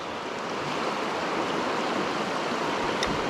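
A low river's current flowing, heard as a steady broadband rush of water that stays close and even throughout, with no voices.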